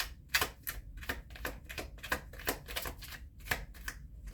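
Tarot cards shuffled and drawn from a deck, giving crisp papery snaps and flicks in a quick uneven rhythm, close and fairly loud, with no talking.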